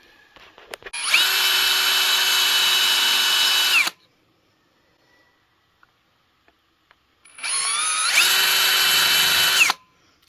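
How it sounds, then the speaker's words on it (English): Two long bursts of a power drill whining at high speed as it bores holes into a metal floor flange on a mini Jeep, separated by a quiet pause with faint clicks. "Now if I can drill these 3 holes, then I can bolt this to that floor flange"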